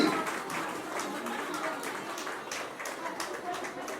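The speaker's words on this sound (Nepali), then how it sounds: "ताली बजाउनु होला जोडले" Audience applause fills the hall at the Bhaskar senior citizen honour ceremony, a steady wash of many hands clapping at moderate volume, mixed with murmuring voices.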